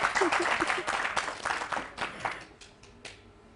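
Audience applause at a televised Afghan Pashto-language show, a dense patter of clapping that is strongest at the start and thins out and fades over a few seconds, with faint voices underneath.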